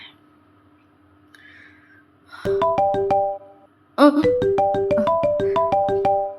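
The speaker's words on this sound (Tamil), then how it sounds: "யாரு தான் ஃபோன் அடிக்கிறதுனே தெரியலையே" A phone ringtone plays in repeated bursts of bright, melodic tones, starting partway through after a quiet stretch, pausing briefly, then resuming loudly and steadily to the end.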